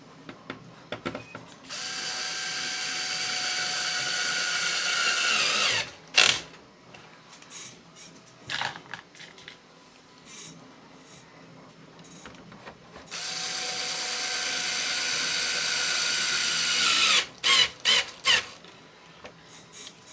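A power drill drives screws into a Traxxas UDR body during reassembly, with two long steady whirring runs, each ending in short bursts and clicks, close and loud with no talk.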